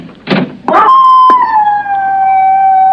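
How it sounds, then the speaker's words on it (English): A dog gives two short, sharp barks and then breaks into a long, wavering howl that holds and slowly droops in pitch, loud and close, with no talking over it. "Why don't you complain to the neighbors about that dog?"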